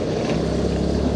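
A motorbike rides along a road, its engine a steady low drone with wind rumble, heard close and loud for a brief moment.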